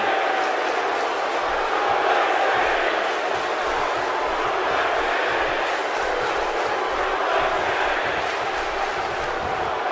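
Arena crowd in the WWE 2K17 video game at a Survivor Series event, a dense, steady roar of buzzing fans filling the whole stretch at constant loudness with no clear breaks.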